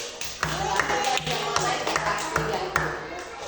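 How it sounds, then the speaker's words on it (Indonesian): A classroom of students clap together during an algebra lesson, a short burst of rhythmic, fairly sharp hand claps in a loose steady beat, with the teacher's voice heard alongside. "Semua harus tepuk tangan buat Jeriko dulu."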